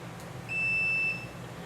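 A multimeter continuity check on the plug of an extension cord with worn brass prongs gives a single steady electronic beep about two-thirds of a second long, clear and close, with no voices.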